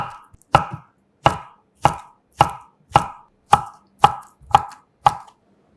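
Knife slicing steamed kabocha squash into 0.5 cm slices on a cutting board: nine crisp, evenly spaced thunks in a steady rhythm, close and clear, with no talking.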